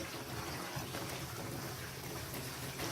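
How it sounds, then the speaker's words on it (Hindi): Water poured into a kadhai of mutton pulao, a steady continuous rushing pour filling the whole moment at moderate level without pause. "अब हम इसमें पानी डालेंगे।"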